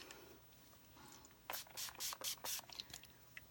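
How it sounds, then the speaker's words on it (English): A makeup finishing spray gives a series of short hissing bursts, about five quick pumps in a row, close and clear after a quiet start. "I'm going to come back with the finishing spray."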